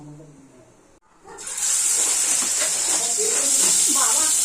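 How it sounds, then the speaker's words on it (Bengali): Fish dropped into hot oil begins to fry, a bright steady hiss that starts after a brief moment of talk and continues loudly with a voice faintly underneath. "মাছগুলো এখন একটু ভেজে নেব।"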